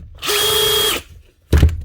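A DeWalt cordless drill with a new chuck runs in a short burst, its high motor whine rising and holding steady for under a second, then spins down, followed by a loud clunk.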